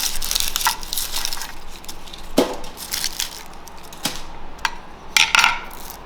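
Kitchen knife chopping through an onion on a cutting board, several sharp crunching cuts at irregular intervals, close and clear with no talking.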